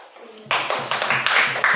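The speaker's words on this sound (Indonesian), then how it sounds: "kasih tepuk tangan untuk kelompok 2" Classroom of students applauding a presenting group, a burst of clapping that starts abruptly and carries on steadily, fairly close, with a faint murmur of voices underneath.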